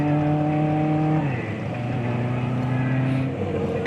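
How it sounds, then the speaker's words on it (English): A drag racing car doing a burnout at a drag strip, a loud, steady engine roar with a held high-revving tone that drops in pitch partway through and keeps droning close by. "Awesome burnout."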